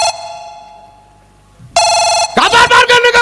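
A loud electronic phone ringtone sounds in a comedy stage show, a steady tone first, then a burst of bright repeating chirps after a short gap.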